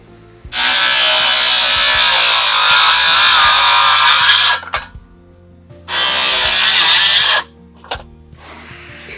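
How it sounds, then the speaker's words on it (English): A circular saw cuts wood on a cabin deck roof build in two loud, close bursts, a long steady whining cut followed by a shorter one, with brief quiet and faint handling noise in between. "While I'm up here, you want to hand me the circular saw?"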